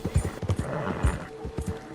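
A horse walking over rocky terrain, hooves clip-clopping in an uneven rhythm of about six or seven close, distinct strikes on stone.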